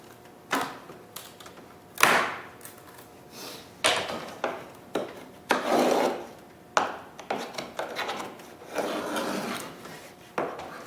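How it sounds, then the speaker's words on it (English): Knife prying out the corners of a wooden cabinet door being cut for glass: repeated close scraping, rasping and cracking bursts of wood, separated by short pauses. "I use a knife here to pop the corners out."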